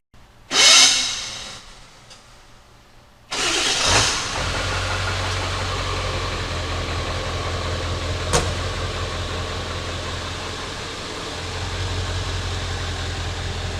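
Diesel truck engine fitted with a Magnaflow muffler and exhaust stacks: a brief starter whir and cough, then a steady low idle rumble with faint hiss, no talking.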